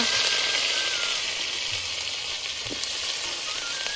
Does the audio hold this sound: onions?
yes